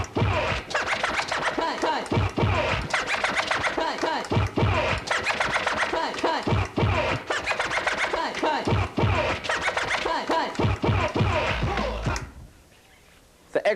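A DJ double-cut scratches with two records on turntables, producing rapid, rhythmic back-and-forth scratch bursts that repeat steadily and loudly before cutting to near silence at the end.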